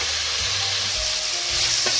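Sliced onions frying in a pan for veg biryani, stirred as they cook: a dense, close, continuous sizzle with faint scrapes of the spoon and no voices.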